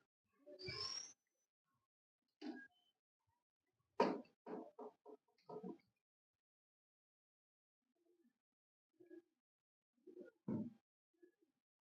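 Rare breeder pigeons coo in short, soft bursts with long quiet gaps between them, faint and close by.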